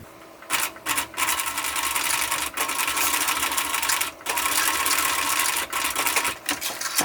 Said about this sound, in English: maybe sew back and forth a couple of times to make that really strong